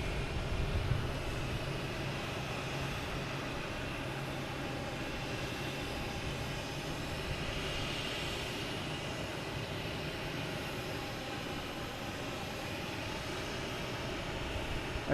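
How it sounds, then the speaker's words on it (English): A Delta Boeing 737-800 arriving at Boston Logan Airport gives a steady, even jet-engine roar that holds throughout, heard from a distance with no voices. "We have Delta coming in from Louis Armstrong International Airport. 737, 800, flight"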